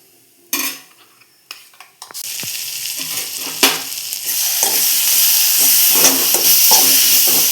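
Ground coconut paste dropped into bitter gourd frying in a pan, a few clinks of a spoon at first, then a loud, rising sizzle that settles into a steady crackle with occasional stirring, no talk.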